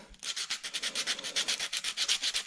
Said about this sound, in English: I'm going to take some sandpaper, some fine grit sandpaper, nothing rough, something really fine.